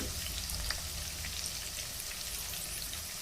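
Onions frying in a pan with curry leaves, garlic and green chilli for egg bhurji, giving a steady close sizzle with faint crackles and no voices.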